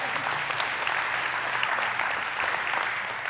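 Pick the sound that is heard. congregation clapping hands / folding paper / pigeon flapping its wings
congregation clapping hands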